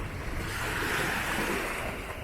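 Steady wash of ocean surf at Pattaya, Thailand, rolling continuously, with a broad hiss of breaking water and some wind buffeting the microphone.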